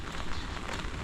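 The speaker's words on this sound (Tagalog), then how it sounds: "Maulan na naman." Steady rain falling on a farm, a dense, even hiss of drops hitting plants and surfaces, continuous and fairly soft with no voices.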